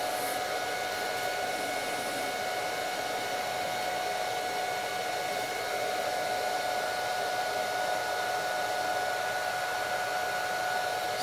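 Electric dirt bike charger running from a 220V home EVSE adapter while charging a Sur Ron Light Bee, putting out a loud, steady fan-like whoosh with constant tonal whine, unbroken for the whole stretch.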